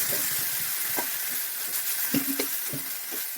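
Curry leaves and spices sizzle in hot oil for a ginger curry, a steady bright hiss with scattered small pops and crackles.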